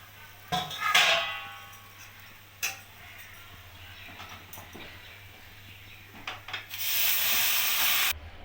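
Hot water poured into frying rice and dal for khichuri, a few clinks and splashes followed by a loud, steady hissing sizzle near the end, close by.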